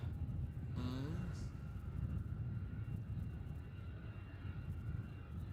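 A Qantas airliner at Melbourne Airport gives a steady, distant engine roar under a broadband wash of noise, with a brief tonal sweep near the start.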